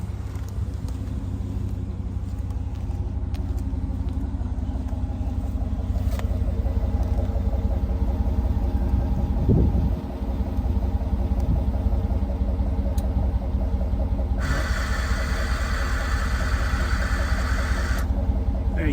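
2011 Cadillac Escalade engine settled into a smooth, even idle, a steady low rumble heard from close by, with a brief clunk partway through and a faint higher whine late on.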